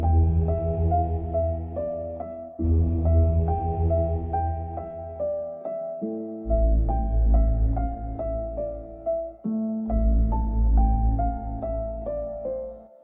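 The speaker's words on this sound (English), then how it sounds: "So with the piano, it sounds like this." A drill beat melody played on piano, with a repeating pattern of low bass notes under a short, plucked upper figure, clean and moderately quiet, stopping and restarting in phrases, with nobody speaking.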